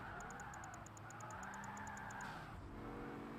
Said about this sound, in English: I can hear this car coming up on my right.